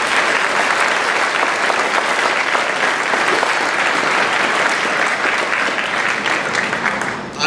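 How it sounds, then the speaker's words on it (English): A large audience at a school Blue Ribbon award ceremony breaks into sustained, dense applause that stays loud and steady for several seconds before tapering at the very end. "a round of applause for our maintenance staff."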